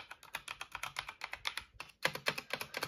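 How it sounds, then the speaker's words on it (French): Rapid clicking keystrokes on a gaming keyboard without a number pad, steady and close, with a brief pause before the typing resumes. "le clavier, et j'adore le bruit."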